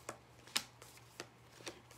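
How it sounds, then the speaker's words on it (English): Tarot cards are shuffled up close in an ASMR setting, a series of sharp papery riffles and taps at irregular intervals over a quiet low hum, with no voices. "I'm just going to go ahead and shuffle in your energies"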